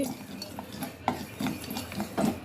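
Rice being dry-roasted and stirred in a pan for Chettinad kummayam, with soft repeated scraping and rustling strokes at a steady rhythm, close and moderately quiet.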